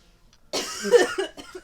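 A single loud cough right into a close microphone after a moment of near silence, harsh and spiking, trailing off into a few rough breaths.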